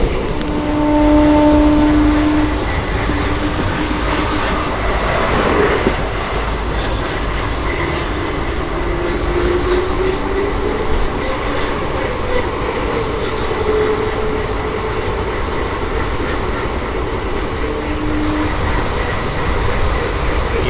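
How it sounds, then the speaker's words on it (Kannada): A passenger train on the Mysuru–Bengaluru route rumbles continuously at speed, loud and close, with a steady roar, faint squealing tones and rhythmic rail noise throughout. "ಸ್ಪೀಡ್ ನೋಡ್ಬಿಟ್ಟು ಪ್ಯಾಸೆಂಜರ್ ಟ್ರೈನ್ ಅಂತ ಹೇಳ್ತೀರಾ"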